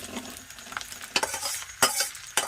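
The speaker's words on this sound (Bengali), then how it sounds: "মাটন ঢেলে দিলাম তার উপরে আর একটু ভাত দিয়ে দিলাম" Cooked mutton is poured over rice while layering biryani, giving a wet, scraping stir-and-sizzle with several sharp clinks of a utensil against the pot, close and moderately loud.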